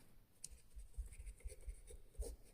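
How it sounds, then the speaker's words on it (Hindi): A pen scratches across paper while a maths solution is written out, with soft, close strokes in short irregular bursts at a very low level. "चलिए हम लोग लिखते हैं"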